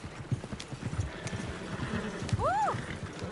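Horse hooves clip-clop steadily at walking pace in Red Dead Redemption 2, close and moderately loud, with a horse whinny rising near the end and quiet talk underneath.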